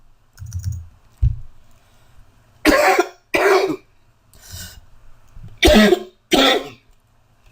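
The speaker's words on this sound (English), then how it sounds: "I feel a cough coming on." Several sharp coughs from one person at a desk, two near-paired bursts then a softer one and another close pair, with faint low murmurs and clicks between them in a quiet room.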